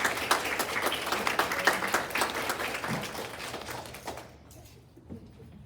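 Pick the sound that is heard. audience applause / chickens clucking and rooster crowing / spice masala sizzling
audience applause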